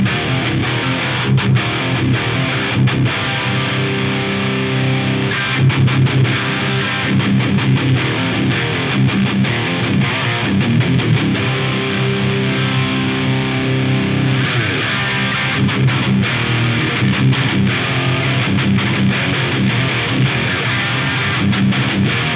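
Electric guitar played through a PastFx TD-Y pedal with the gain pushed into fuzz, giving thick, saturated, doomy chords and riffs that ring on steadily at close, loud level without any talking.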